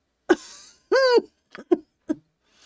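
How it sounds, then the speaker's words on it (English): A rough, wheezing cough from the video game Baldur's Gate: Enhanced Edition, in several short bursts, one drawn-out and strained, close up. "His bitter laugh becomes a wheezing cough."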